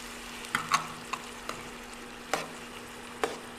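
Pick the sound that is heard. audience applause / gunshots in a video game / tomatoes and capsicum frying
tomatoes and capsicum frying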